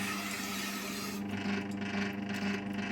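Knife stropped back and forth on leather with polishing compound, giving a close rasping rub that continues steadily throughout.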